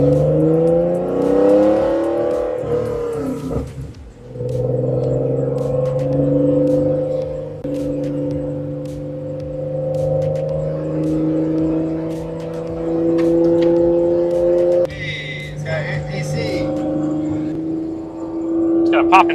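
A supercharged Acura NSX engine revs while driving, holding a steady, close drone whose pitch climbs near the start, then settles and surges again in the closing seconds.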